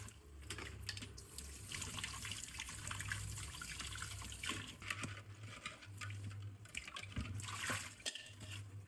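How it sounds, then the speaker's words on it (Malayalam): Running tap water splashes steadily into a sink as a crab is washed and cleaned, a continuous close, low-level trickle and spatter without talking. "ഒന്ന് രണ്ട് വെള്ളത്തിൽ കഴുകണം"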